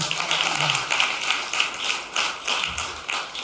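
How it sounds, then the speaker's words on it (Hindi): Church congregation at a ministry service clapping in praise of God, a steady run of claps through the whole stretch, fairly close and dense. "परमेश्वर की तारीफ के लिए जोरदार ताली बजाएंगे"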